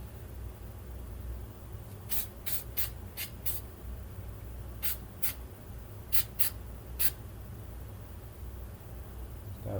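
Short bursts of SEM copper weld-through primer hiss from an aerosol can onto bare metal, about ten quick sprays in two clusters, close and crisp over a quiet low background hum, with no talking.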